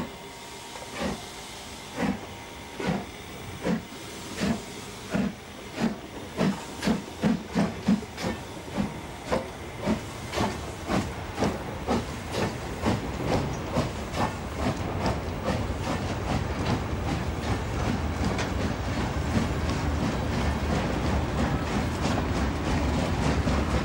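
Prussian P8 steam locomotive 38 3199 hauling a freight train, with sharp rhythmic exhaust chuffs that quicken and blur into a continuous roar as it approaches and passes, loud and close, with rail clatter underneath.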